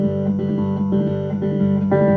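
A six-string cigar box guitar played in a fast boogie on open strings, a bright twangy chord riff repeating in a quick steady pulse, close and with no voice.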